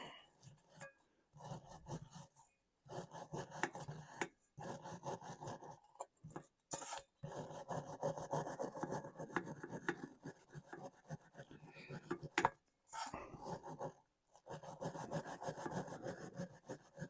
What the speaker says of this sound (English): Let's see if we have any luck scrubbing off this carbon and cleaning up this valve.